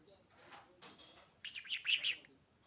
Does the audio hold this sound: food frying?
no